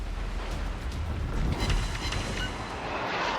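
Naval guns boom in the World of Warships game as a tier 1 cruiser Hermelin fires, a dense rumbling barrage of deep blasts that peaks around the middle and stays loud throughout.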